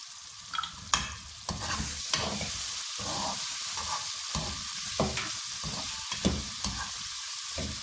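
Cumin seeds sizzle in hot oil while making aloo palak saag, a steady crackling hiss broken by several sharp clinks and scrapes of a spoon stirring the pan, close and fairly loud with no talking.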